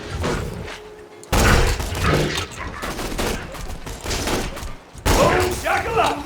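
A grenade blast in Borderlands 2 erupts with a loud, broad burst of gunfire-like crackle and thuds, followed by a second sharp explosion near the end, with a voice exclaiming over the chaotic combat noise.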